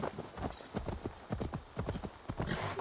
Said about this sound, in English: we might as well call a horse and ride